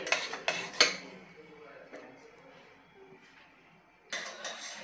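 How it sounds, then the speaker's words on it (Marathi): A utensil scrapes and knocks against a pan while lentil and jaggery puran is stirred on the stove, with a few sharp metallic clinks at the start and again near the end and quieter scraping between them, with no talking. "गॅस हा मीडियम आचेवरच ठेवायचा आहे आणि सतत ढवळतच आपल्याला हे शिजवून घ्यायचं आहे।"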